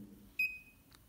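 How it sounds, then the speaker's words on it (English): A single short, high electronic beep from an auto lensmeter testing a lens, clear and steady, followed by a faint brief click against a quiet background. "so you can hear a beep sound"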